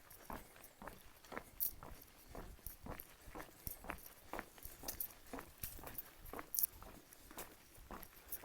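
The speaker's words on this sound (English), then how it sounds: "I think you're going to just be listening to chewing." Someone chews food up close while on a thru-hike of the North Country Trail. Faint, steady, crunchy bites repeat in a rhythm with no talking.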